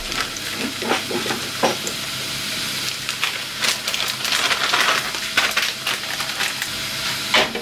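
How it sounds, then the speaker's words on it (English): Minced beef and chopped garlic sizzle loudly in a pan while a spoon stirs and scrapes, giving a steady frying hiss broken by repeated crunchy scraping bursts, close up, no speech. "just going to mix that up and let that mince brown off"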